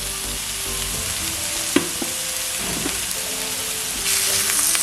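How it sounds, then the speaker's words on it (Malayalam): Ginger garlic paste and onion sauté in a pan with a dense, steady sizzle and rain-like crackle, with a single faint clink of a utensil and a slight swell in the hiss toward the end. "നന്നായിട്ട് ഇനി മിക്സ് ചെയ്ത് സബോള ഒന്ന് വാട്ടിയെടുക്കാം"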